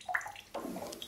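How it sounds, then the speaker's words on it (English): Water draining from a disconnected radiator into a container beneath: close splashing and gurgling pours in two bursts, with a brief break between them. "I could then unscrew the connection between the radiator and the valve with a container underneath to catch the water coming out of the radiator."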